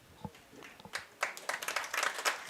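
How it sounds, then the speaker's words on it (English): A crowd at a varsity high school softball game between Central Lyon and Sibley-Ocheyedan claps. It starts with a few scattered claps and builds into steady, moderately distant applause. "as the crowd gives her a round of applause"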